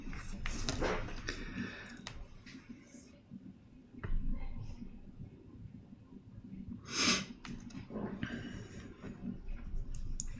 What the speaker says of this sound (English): I just heard her sneeze.